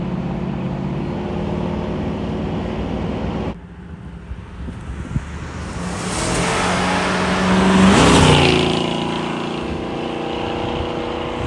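A 1967 Ford Mustang convertible restomod with an overdrive transmission cruising through turns at about 50 mph, engine droning steadily under heavy wind buffeting, swelling briefly as it accelerates before settling back.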